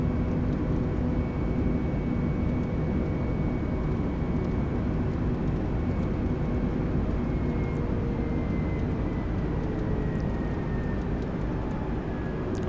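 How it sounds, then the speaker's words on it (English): Airliner engines at climb thrust in Microsoft Flight Simulator 2020 produce a steady, loud, broadband roar with a faint high whine, continuous and unchanging throughout, with no voices. "Set climb thrust."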